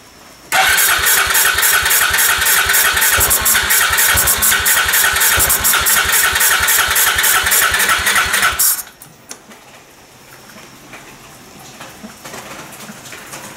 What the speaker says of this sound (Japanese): ちょっとエンジンかかり悪いです